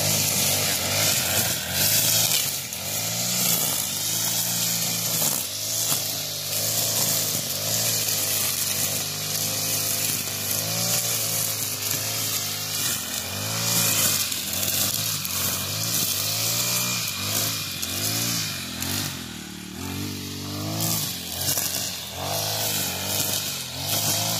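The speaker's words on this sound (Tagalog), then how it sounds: "So ito na ma'am yung yung bagong grass cut. Ito na ang ginagamit dito sa farm." A grass cutter machine runs on a dry farm in summer, a loud, continuous two-stroke engine drone with a slightly wavering pitch that stays close and steady throughout.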